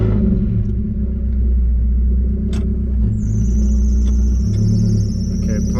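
A Mazda Miata with a swapped differential revs and strains against a block of wood under its wheel, a loud close engine rumble with a rising whine and squeal partway through.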